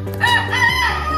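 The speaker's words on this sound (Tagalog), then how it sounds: "Manok lang." A rooster crows loudly and close by in a single drawn-out cock-a-doodle-doo with a bright, wavering tone, heard alone with no talk over it.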